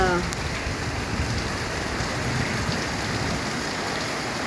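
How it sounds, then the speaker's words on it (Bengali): Heavy rain pours down steadily and loudly, a dense continuous hiss of drops on surfaces with a faint rumble beneath, lasting throughout with no talking. "এত বৃষ্টি! এইবার জল জমে যাবে, হয়ে গেল।"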